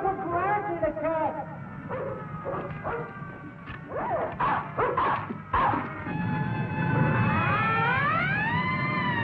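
Dog barks and yips in short bursts amid raised voices and scuffling in an old 1959 film scene, followed by a wavering whimpering whine.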